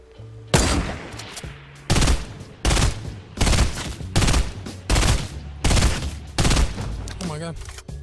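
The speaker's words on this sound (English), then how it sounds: "First game of the day, and it's with the new burst rifle" A new legendary burst assault rifle fires in a video game in rapid three-round bursts, about eight sharp loud volleys at steady intervals, with a voice briefly talking near the end.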